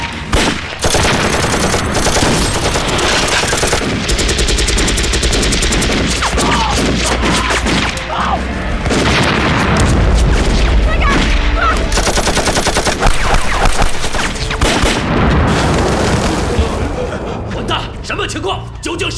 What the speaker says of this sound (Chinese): 屋顶被炸了，东面的铁丝网被炸